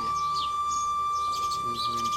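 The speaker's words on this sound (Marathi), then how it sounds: "गोरे म्हणजे चिमण्या." Sparrows chirp in short, high bursts at a temple shrine, scattered across the moment over a steady tonal hum and faint background noise.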